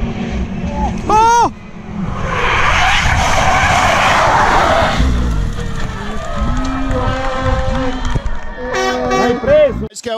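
Touring cars, BMWs among them, roar off the start of a race, a loud broadband rush of engines building and sweeping past, with tyre and engine whine and a commentator talking over it.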